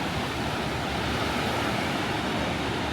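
Ocean waves break on a beach in December, a steady, even wash of surf noise that stays constant and fairly loud throughout, with no voices or distinct individual crashes.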